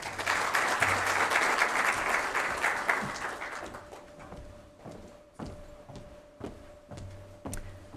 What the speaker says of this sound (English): Can you just give her a round of applause one more time?